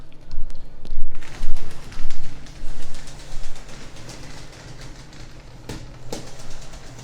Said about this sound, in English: If you start up your train with the transformer and it's running like this,